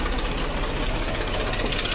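Tractor engine running steadily with a rough, knocking idle and heavy low rumble, close by and continuous with no talk.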